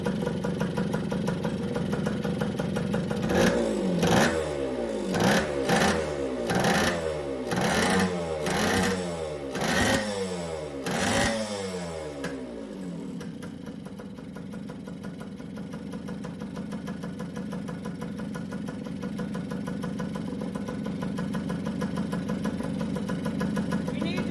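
An old motorcycle engine, running again after 25 years, idles close by with a steady low rumble, a rapid rhythmic chugging early on before settling into a continuous drone.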